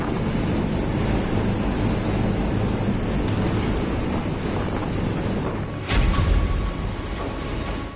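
Storm-driven waves pound a tug boat at sea in a continuous roaring wash of surf and wind noise, with a heavier crashing surge near the end.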